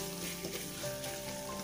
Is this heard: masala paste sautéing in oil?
yes